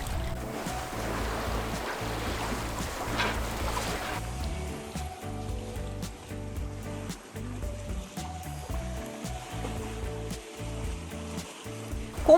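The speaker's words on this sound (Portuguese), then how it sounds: "o dia estava lindo, sem ondas, as velas a todo vapor" A sailboat under full sail glides along the calm Portuguese coast, water rushing and splashing against the hull in a steady wash, with wind noise and no voices.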